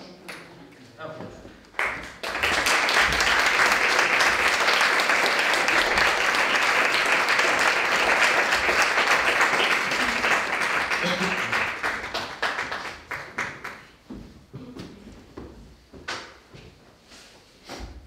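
An audience applauding at a school musical theatre show of Beauty and the Beast, loud sustained clapping that swells in after a brief pause and tapers off into scattered claps and murmurs.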